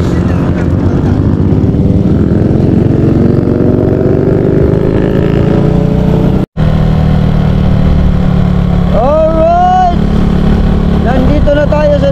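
A loud motorcycle engine drones steadily throughout, rising and falling in pitch as it revs, with a brief dropout midway and voices talking over it.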